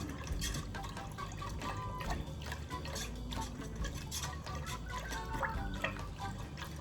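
Coconut pudding mixture for Puerto Rican tembleque being stirred in a pot on a stove over medium-high heat, a steady wet scraping and sloshing that runs continuously, close and fairly loud, with no talking.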